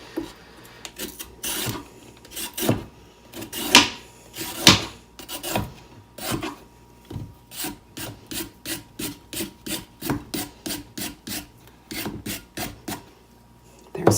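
Potatoes, green at the top and yellow throughout, sliced unpeeled with a knife on a board for garden vegetable soup: a run of sharp, close chopping strikes, irregular at first, then a steady evenly spaced rhythm, with no talk.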